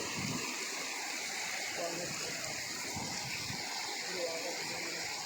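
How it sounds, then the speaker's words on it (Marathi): Floodwater rushes over a flooded bridge at Soundali village in a broad, steady roar of flowing water that stays loud and constant throughout. "पाणी वाळून राहिलं,"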